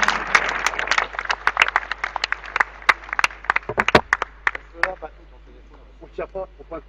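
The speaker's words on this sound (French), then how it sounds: "On peut l'applaudir, vraiment." Scattered applause for a player at a pétanque final in Monaco: uneven, sparse claps from a modest crowd outdoors, thinning out toward the end as voices come in.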